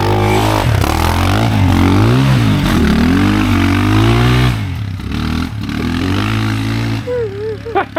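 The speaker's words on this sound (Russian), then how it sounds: "Отойдите, сейчас газанем." A Rover car engine, just repaired after a fuel leak, is revved hard and repeatedly, its pitch rising and falling in loud surges close by, then settling toward a rougher idle with brief blips.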